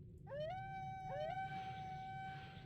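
Dogs howl in a video game, two rising howls in quick succession that settle into a long sustained tone, clear and close over a low ambient hum.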